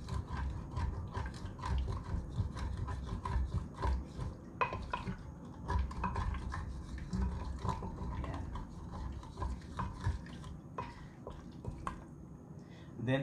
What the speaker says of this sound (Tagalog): Haluin lang natin yung ilalim para wala siyang sunog sa ilalim.